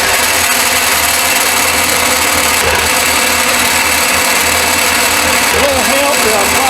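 A coarse saw blade cuts thin material in a workshop, giving a loud, steady, rasping machine drone throughout, with small surges as the cut bites.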